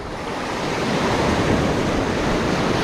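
Ocean surf washes steadily on a shore during a fishing outing, a broad continuous roar of breaking waves with wind rush, loud and close with no talk.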